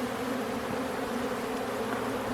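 Honeybees buzzing at an open hive during December requeening, with drone brood being pulled out: a close, steady, dense hum that runs evenly throughout.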